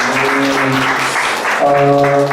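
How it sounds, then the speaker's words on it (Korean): Congregation clapping in a church during a Sunday worship service, with sustained musical tones ringing beneath the steady applause throughout. "주님께 다시 한번 감사의 박수 올려드리면 좋겠습니다."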